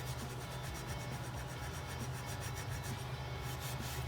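Fine grit sandpaper rubbed over glass bottles, a faint, steady rhythmic scratching with strokes repeating in quick succession and no talk.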